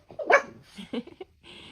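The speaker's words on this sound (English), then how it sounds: "she's barking at it because I think she still smells more in there" A dog barks at a slow feeder bowl: one loud, sharp bark up close, followed by a few softer, shorter yips and snuffling sounds.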